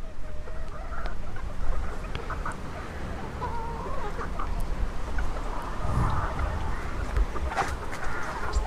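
Bantam chickens cluck and chatter in a busy, continuous farmyard din, with occasional sharper calls over a steady background.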